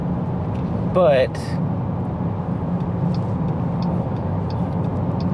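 Inside a 2021 Jeep Grand Cherokee L with a V6 climbing uphill, a steady low engine and road hum fills the cabin, with a brief spoken word near the start.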